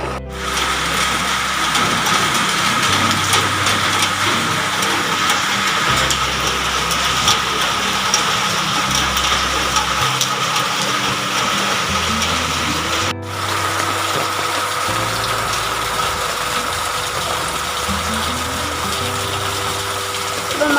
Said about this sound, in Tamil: இப்போ மாடியில் வந்து மழை பெஞ்சு தண்ணி இங்கே வருது இந்த மோட்டர் மூலமாக